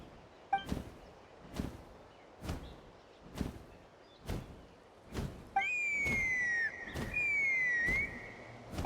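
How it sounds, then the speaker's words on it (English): A whistle in Genshin Impact rings out as a clear, sustained tone with a sliding pitch, following a series of evenly spaced thumps. "That sounded like a whistle."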